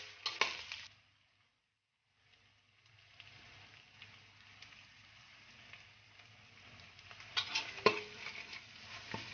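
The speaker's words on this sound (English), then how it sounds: "fry these 2 types of chili into the frying wok" Two types of chili fry in a wok, soft sizzling interrupted by a brief quiet gap, with stirring and clinks of a utensil against the pan rising toward the end.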